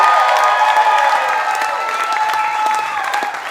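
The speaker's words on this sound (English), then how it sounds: "Round of applause for Planned Parenthood." Comedy club audience applauding steadily throughout, a dense broadband clapping wash with some cheering mixed in, loud and close, no talk over it.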